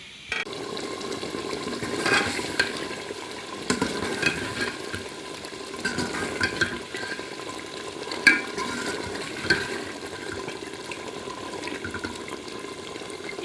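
A pot of kachnar gosht bubbles and sizzles steadily while a spoon stirs through it, with soft scraping knocks against the pot and a few sharper clinks, close by and with no voices.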